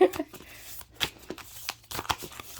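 Tarot cards are shuffled close up in quick riffling bursts and soft slaps, with a faint low hum underneath.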